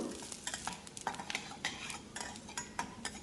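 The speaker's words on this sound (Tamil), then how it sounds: "இதையும் குறைஞ்ச தீயில் நல்லா வறுத்துக்கணும்" Coriander seeds dry-roasting in a pan over a low flame, with a steady run of soft scraping stirs and light rattling taps close by, no voices.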